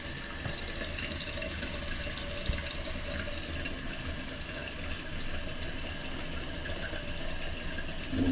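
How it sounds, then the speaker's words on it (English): A toilet cistern refilling after a flush following a flush lever repair: steady, close rushing water that runs evenly for several seconds without a break, with no voices over it. "That was a great flush."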